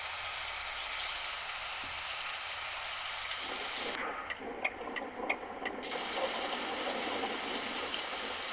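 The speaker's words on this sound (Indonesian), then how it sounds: "Waduh, hujan." Rain falls in a video game bus trip, a continuous patter of drops on the bus with faint mechanical rattles underneath, steady and moderately loud throughout.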